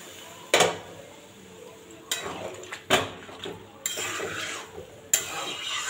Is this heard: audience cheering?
no